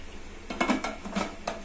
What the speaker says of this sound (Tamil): இப்போ வந்து மூடி போட்டுருவோம்.